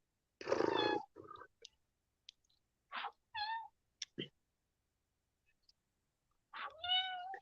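A pet cat close to the microphone gives several short meows and mewing cries with brief gaps, loud and near, and a chewing or snuffling noise between them.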